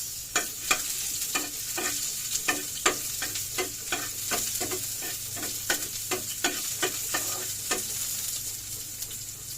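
Garlic and onion sauté in a pan for a sardine dish, steady sizzle under a rapid series of sharp scraping stirs, roughly two per second, close and fairly loud with no talking.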